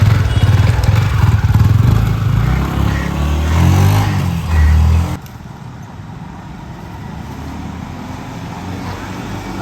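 A motorcycle engine runs and revs loudly nearby for about five seconds, then drops to a quieter, steady idle hum.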